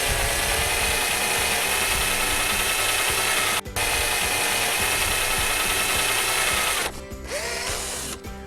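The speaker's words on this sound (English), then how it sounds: "We're going to drill a hole about 2 inches deep at a level or slightly uphill angle" A power drill bores a tap hole about two inches deep into a maple tree, a loud, steady grinding whir running nearly continuously with a brief break partway through, then cutting off near the end.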